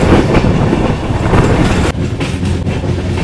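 A Kanchanjungha Express train runs loudly on its way from Kolkata toward Agartala, with steady rumbling and rhythmic clickety-clack of wheels over rail joints heard up close throughout, briefly dipping then continuing.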